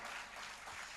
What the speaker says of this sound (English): A big round of applause representing your community, beta.